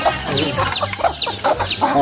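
Chickens cluck and squawk in quick, agitated bursts nearby as they are being caught, a flurry of overlapping calls.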